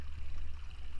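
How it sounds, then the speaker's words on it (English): Water pours and rushes steadily through a small backyard hydro generator beside a koi pond, a continuous close hiss with a low rumbling undertone and no talking. "But the big thing there is my water hydro plant."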